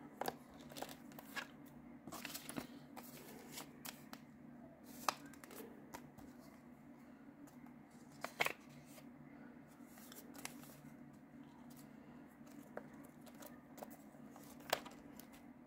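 Paper cash bills being handled and stuffed into a box: soft, close rustling and crinkling with occasional sharper paper snaps, faint and spread out over the clip.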